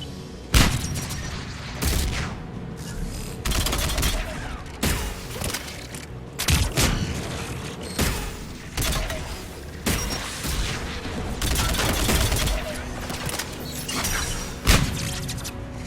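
Tower defence guns in the Mass Effect 3 video game firing repeatedly, a series of heavy booming blasts spaced a second or two apart over a rumbling battle background, loud and close.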